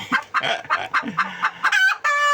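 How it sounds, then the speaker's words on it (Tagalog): A bantam hen that has just laid an egg cackles close by in a rapid series of clucks, rising into a longer drawn-out call at the end. "Putak na no?"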